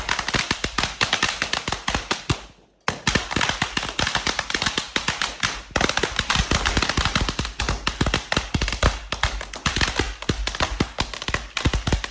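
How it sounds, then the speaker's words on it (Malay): Chinese fireworks going off outdoors during a Raya celebration, a dense, loud barrage of sharp crackling pops and bangs with a brief gap near three seconds, then continuous rapid bursts. "Kita try bunga api Cina"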